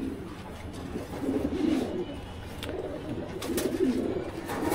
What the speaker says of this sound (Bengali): এটা কি জিরা কবুতর, জিরা গলা কবুতর?